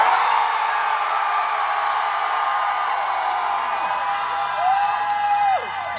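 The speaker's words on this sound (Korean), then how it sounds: "전방의 함성 5초간 발사 한번 해볼까요?" A concert audience at a university club festival shouts together on cue, a sustained, loud roar of cheering and whoops that holds steady for several seconds.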